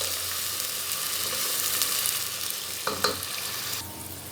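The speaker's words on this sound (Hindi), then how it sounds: "कटी हुई प्याज डालकर इसको फ्राई कर लेना है।" Chopped onions frying in a pan: a steady, close hiss of sizzling oil with a couple of brief stirring scrapes toward the end.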